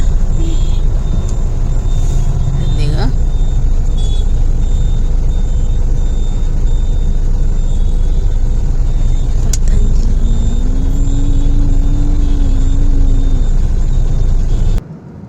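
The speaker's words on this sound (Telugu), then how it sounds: "చాలా ఎక్కువ ట్రాఫిక్ ఉంది" Dense road traffic near RK Beach in Visakhapatnam during Shivaratri festivities, heard as a steady, loud rumble of passing cars and engines throughout, with a brief horn tone rising near the end.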